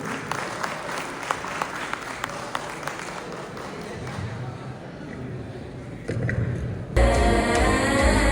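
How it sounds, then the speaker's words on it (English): An audience applauds to welcome dance performers onto a stage, starting with scattered sharp claps over crowd murmur, then swelling into louder, fuller applause toward the end. "Please welcome them with a big round of applause."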